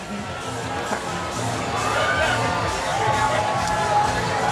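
A massive crowd at the Wilton Manors Stonewall Pride Parade in Florida cheers and shouts steadily, with whoops and children's voices rising through a dense, continuous roar of outdoor babble.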